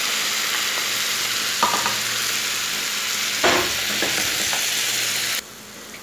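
Sausages sizzle loudly and steadily in a frying pan as tomato goes in, with a few scraping stirs and bursts of crackle before the sound drops away abruptly near the end.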